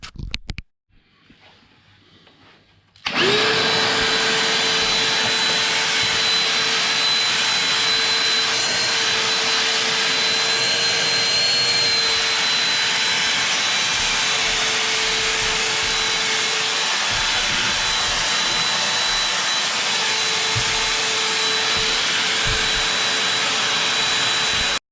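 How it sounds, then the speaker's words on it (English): Battery-powered vacuum cleaner starts abruptly after a short quiet moment and runs loud and steady for about twenty seconds while cleaning up a mess, with a constant whining hum throughout. "do some vacuuming."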